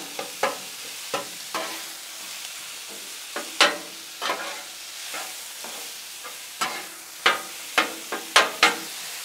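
Ground beef sizzles on a hot Blackstone griddle while a spatula repeatedly scrapes and chops against the metal in irregular strokes, close and fairly loud.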